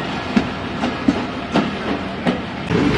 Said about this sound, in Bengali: 2 নম্বর প্ল্যাটফর্মে বেনাপোল থেকে ছেড়ে আসা মোংলা কমিউটার ট্রেন প্রবেশ করলো